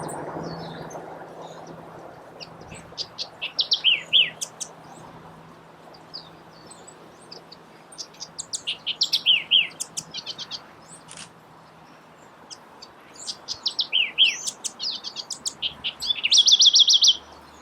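A southern house wren in the Panama City area sings bursts of rapid, bubbly trills and chirps, several phrases separated by short pauses, fairly close over a quiet background.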